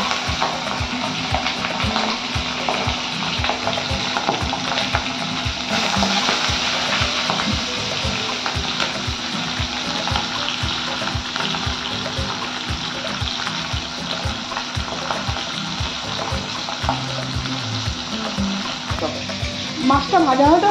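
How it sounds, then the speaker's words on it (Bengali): Pabda fish fry in hot oil in a kadai, a steady loud sizzling hiss that runs throughout with occasional crackles and pops, close up and without talking. "মাছগুলোকে আমি ভেজে নেবো ভালো করে।"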